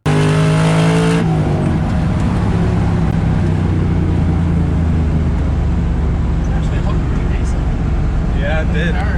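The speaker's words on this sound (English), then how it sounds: "The other day, my good friend Adam stopped by in his 1969 Chevy C10 Pickup with a Supercharged LS swap in it, and we went for a ride." A supercharged LS-swapped 1969 Chevy C10 pickup on the move, its engine droning loud and steady from inside the cab after a brief opening sound, with faint voices underneath.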